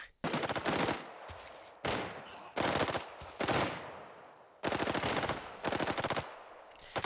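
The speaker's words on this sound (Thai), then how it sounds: "ในครั้งนี้ก็มีเสียงปืนดังขึ้นมาต้อนรับผมในขณะที่กำลังเดินขึ้นเนินมา" Rapid bursts of automatic gunfire from the video game Arena Breakout crack out in several volleys, loud and close, with brief pauses between them and no talking.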